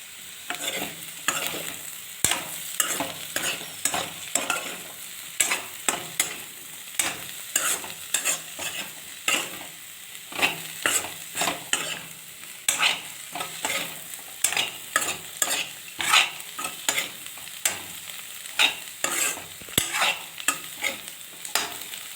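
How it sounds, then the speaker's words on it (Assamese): Potatoes and peas with peanuts being stir-fried until crisp in a pan, a spoon scraping and tossing in repeated rhythmic strokes over a soft continuous sizzle, close and without any talking. "এতিয়া আলুটো মই অলপ ক্ৰিস্পি কৰি দিম, ভালকৈ ভাজি দিলে।"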